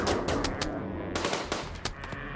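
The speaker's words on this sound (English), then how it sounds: "And the others should just be set to shoot it." Video game gunfire in RimWorld as colonists shoot at a Thrumbo: rapid, moderately loud bursts of shots in an irregular rhythm, with a denser volley in the second half.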